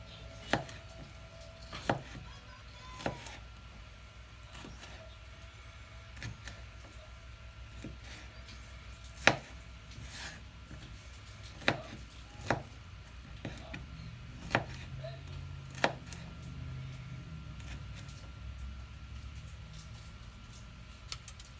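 A moderately sharp knife cuts bell peppers into pieces on a board, producing sharp, irregular chops spread out over a quiet background, close and clear.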